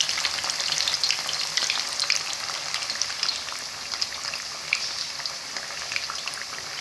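Rohu fish pieces fry in hot oil over medium heat, a dense, steady crackling sizzle with scattered pops, close and fairly loud, with no talk.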